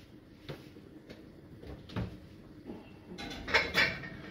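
Plates clink and rattle as they go into a kitchen oven to warm, with a few light knocks followed by a brighter cluster of ceramic clatter near the end.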